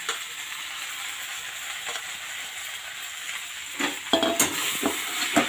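Boiled greens with cumin, garlic and browned onion frying in a pan, a soft continuous sizzle with scraping stirs growing louder toward the end, close by and without voices.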